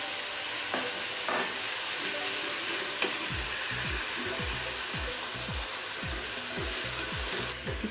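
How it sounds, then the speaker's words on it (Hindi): Ginger, garlic and green chili paste sizzles steadily in a pan, a dense close hiss broken by scattered clicks and scrapes from stirring. "इसको हम इसी तरह 4 से 5 मिनट फ्राई करेंगे"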